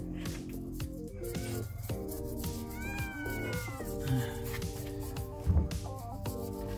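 A cat meows repeatedly, close by and fairly loud, with plaintive drawn-out calls rising over a bed of steady background music in a home kitchen where pacu-caranha fish are being scaled.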